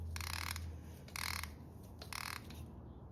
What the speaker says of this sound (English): you can take your bolt and thread it back on there